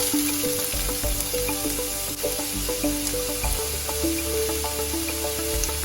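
Onion frying in hot coconut oil in a pan, a steady loud sizzle with crackling pops running continuously, close up and alone without talk.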